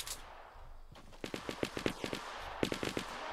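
Rapid bursts of automatic gunfire in a shooting video game, a run of sharp shots followed by a brief pause and a second volley, loud and close with no talking.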